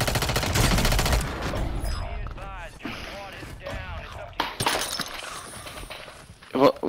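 Gunfire from below in a first-person shooter game: sharp, loud volleys of shots at the start, then scattered single cracks and clatter, with voices talking throughout.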